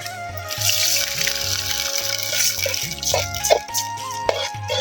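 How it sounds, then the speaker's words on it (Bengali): Water added to a hot frying pan with onions in oil, giving a bubbling, dripping sizzle with a few sharper spits and splashes toward the end, no voices. "এবার একটু পানি দিয়ে দিচ্ছি আমরা।"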